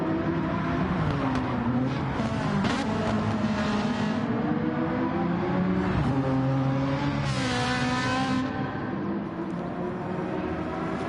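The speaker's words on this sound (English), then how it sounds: "that Genesis GT3 race car is roaring around these last 2 apexes on this 5th lap" A Genesis GT3 race car in Gran Turismo 7 at Trial Mountain Circuit roars continuously, engine pitch climbing and dropping through gear changes and revving as it takes corners, loud and close throughout.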